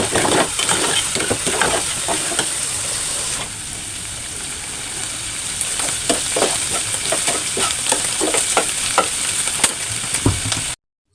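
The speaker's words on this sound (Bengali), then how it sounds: "তো সরিষার তেল দিয়ে এটাকে আমি তেলানি দিয়ে নিব।" Taro flower mash frying in mustard oil after onion and garlic, a steady close sizzle and hiss with repeated scraping stir strokes throughout, ending abruptly.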